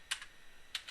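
Two quick bursts of keystrokes on a computer keyboard, close and crisp, as a network switch command is entered during a CCNA lab configuration.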